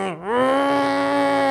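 A voice imitates an angry bull, dipping into a low groan and then swelling into a long, sustained bellowing moan.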